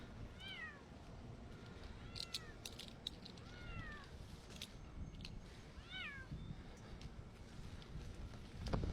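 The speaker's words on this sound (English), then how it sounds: "Oh, you can hear the little kitty meowing." A kitten gives several faint, high meows spread across steady background noise, with a few soft clicks.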